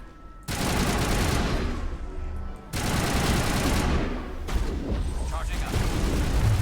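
Gunfire in the video game Mass Effect 1, with dense sustained bursts of rapid shots and booming impacts running almost without pause, broken by one brief gap, while a voice talks over the fighting.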